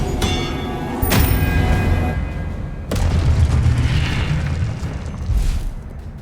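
Expelliarmus spell blasts in the video game Hogwarts Legacy, deep booming explosions with sharp cracks at the start, rumbling on and fading between hits.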